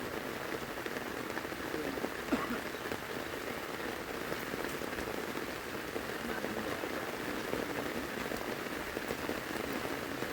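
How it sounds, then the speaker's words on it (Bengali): Steady rain falls outdoors in rural Bangladesh during rain fishing, a constant, even patter and hiss that holds for the whole stretch with no pauses. "বৃষ্টি করে না বন্ধ"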